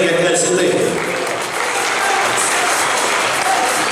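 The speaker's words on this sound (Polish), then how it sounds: "Brawa dla drużyny Jagiełki." A crowd at a Polish sports match applauds the visiting team, a dense sustained clapping that stays loud and steady across the whole four seconds, with an announcer's voice mixed in.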